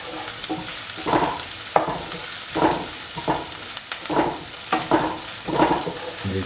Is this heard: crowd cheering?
no